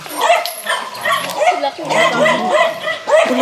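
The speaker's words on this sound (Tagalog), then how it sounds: "Daming aso." Several dogs, including a husky, bark and yip close by on a rural farm, mixed with whimpers and people talking over them.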